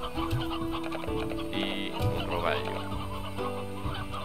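Chickens cluck and chatter in the Slime Rancher video game, several hens layered over a steady in-game music backdrop, loud and close throughout.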